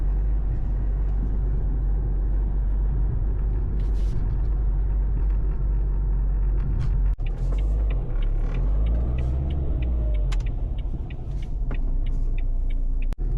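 A car rolls slowly behind a college bus that stops to pick up children, a steady low engine rumble close and continuous with faint higher whines and a brief knock partway through.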